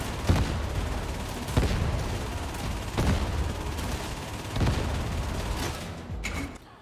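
Heavy shotgun blasts and grenade launcher fire in the game Darktide, a loud salvo of booming shots spaced about every second and a half, each trailing into dense rumble and debris.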